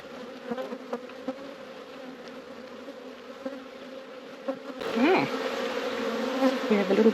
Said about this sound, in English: We've got some bees there with some pollen on their legs.